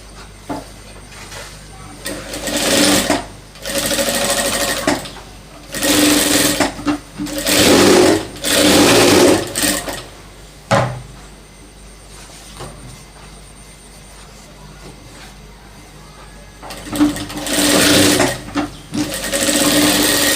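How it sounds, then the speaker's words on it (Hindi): A sewing machine stitches pieces of a gents' trouser pocket in several loud rhythmic bursts of rapid clatter, separated by short quiet pauses. "दोनों की हम सिलाई कर लेंगे इस तरह से"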